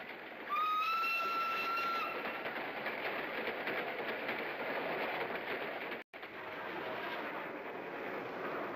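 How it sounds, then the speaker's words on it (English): A mainline railroad train passes through open countryside with a steady, loud roar and rolling wheel noise, a brief horn tone sounding near the start before the rumble continues to the end. "their trains sliced across the countryside"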